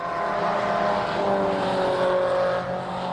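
MG race cars, including an MGF in British Racing green, pass at speed on a club racing circuit during an MGCC Cockshoot Cup race, their engines a loud, steady, sustained roar with a slight pitch drop as they go by.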